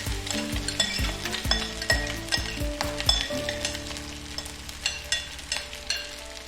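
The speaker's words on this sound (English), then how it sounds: "pour beaten eggs into the wok. Allow the eggs to set. When eggs are almost set, add rice over the eggs and vegetables." Beaten eggs and rice sizzle loudly in a wok, broken by repeated metallic clanks and scrapes of stirring in an uneven rhythm.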